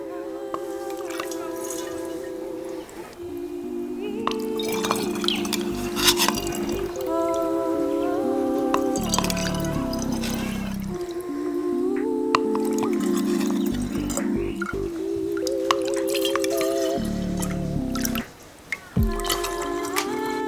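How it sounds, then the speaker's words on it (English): Homemade turmeric beer ladled and poured, with liquid trickling and dripping into a container, rising gurgling tones as it fills, continuous and close with a short pause near the end. "So now I'm just going to go ahead and ladle this."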